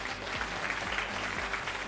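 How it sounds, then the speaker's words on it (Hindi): An audience at a parenting seminar claps steadily for the whole moment, a dense, even patter of many hands with no pause. "आज अभी आप ताली बजा रहे हो"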